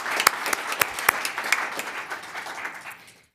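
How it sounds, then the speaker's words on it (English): Audience applause at a town council meeting, a dense burst of clapping from a room full of people with a few sharper claps standing out, fading away over a few seconds. "So let's give a round of applause for"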